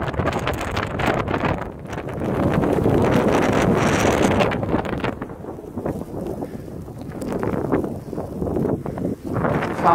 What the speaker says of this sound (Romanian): Bătea vântul foarte tare